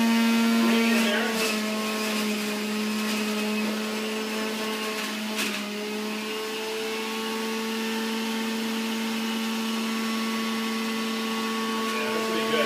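A juicer runs continuously while pressing apple, carrot, celery and greens, a loud, steady motorized whine with a strong constant hum and occasional crunching bumps as produce goes through.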